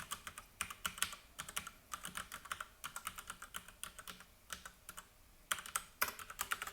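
Fingers type on a computer keyboard in quick bursts of close, crisp clicks, with brief pauses between runs of keystrokes and no talking.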